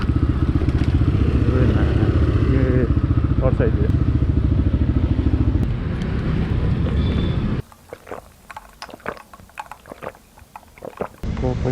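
Honda CRF / CrossX 250R motorcycle engine running close by with a steady throbbing idle for several seconds, then cutting out; someone speaks briefly near the end over faint background clatter.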